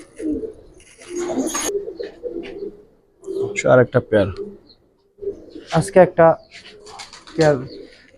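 Giribaz pigeons coo in a loft, soft low murmurs running beneath a voice as he talks throughout.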